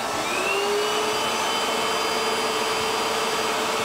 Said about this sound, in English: let's go ahead and kick the vacuum on here